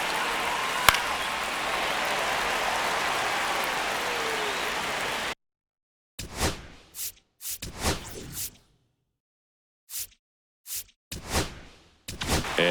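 A stadium crowd in MLB The Show 25 roars during a tense one-run ninth inning, a steady loud wash of cheering for about five seconds before breaking into short, choppy bursts separated by silence.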